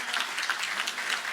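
An audience at a university event applauds, the dense, even clapping of a crowd heard at moderate volume for a short stretch.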